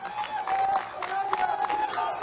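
An outdoor crowd at a political rally with Himachal chief minister Jai Ram in Nurpur claps and murmurs, scattered hand claps and crowd noise under a steady tone, with a voice faintly heard.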